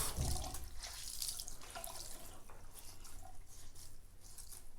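Hot water runs steadily from a tap over a washcloth, a continuous close splashing and hissing stream with no talking.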